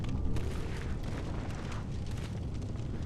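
A fire bomb bursting into flames in Demon's Souls, heard as a continuous low roaring rumble with a crackling hiss on top, steady and moderately loud for the full stretch.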